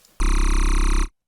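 Synthesized sci-fi tone from a water razor wavetable shape in the Vital synth, a single loud buzzy sustained note about a second long with a rapid pulsing flutter, starting abruptly and cutting off cleanly.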